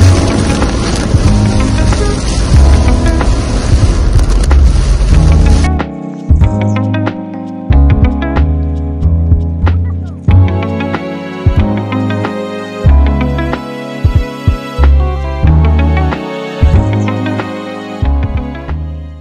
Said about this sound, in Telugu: సో ఫుల్ వర్షం పడుతుంది చూస్తున్నారు కదా ఇప్పుడు